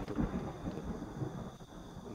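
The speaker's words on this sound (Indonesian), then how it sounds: "guntur lagi" Thunder rumbles low and steady during a rainstorm, a soft continuous roll with faint rain texture, fairly distant and quiet.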